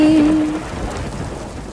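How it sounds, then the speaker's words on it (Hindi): Rain and thunder sound effect in a children's nursery song, steady rain hiss with a low rumble of thunder, loud and unaccompanied by speech. "टिप टिप करती बारिश की बूंदे"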